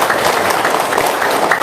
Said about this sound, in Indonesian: Dari tepuk tangan dulu dong dari Lampung.